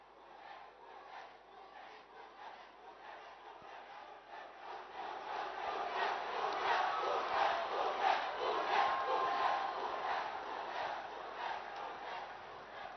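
A crowd cheers and roars at a Robocon 2022 robotics competition, rising from a muffled hubbub to a sustained, louder swell of shouting voices that stays heavy in the middle range.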